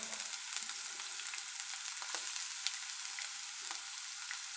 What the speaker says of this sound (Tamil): நம்ம இப்போ போட்டிருக்கிற கடுகு எல்லாம் பொரிஞ்சதுக்கப்புறம் நம்ம இதில் வந்து வெங்காயத்தை ஆட் பண்ணிக்கலாம்